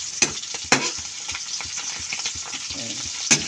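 Tuyo, dried fish, sizzles and crackles steadily in a frying pan, with a few sharper pops and spatters standing out above the continuous hiss. No one speaks.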